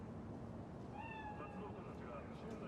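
A cat meows a few times in the video game Cyberpunk 2077, its short rising cries faint and set against a steady wash of ambient background noise.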